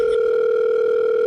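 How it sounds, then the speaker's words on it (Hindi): A telephone dial tone hums while a call is placed, a steady, loud, continuous tone heard alone and close. "एक ही बार फोन लगाऊंगा"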